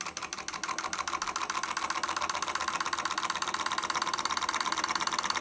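A heat engine demonstration runs in a chemistry lab, its mechanism making a fast, regular mechanical ticking and whirring that holds steady and fairly quiet throughout, with no talk.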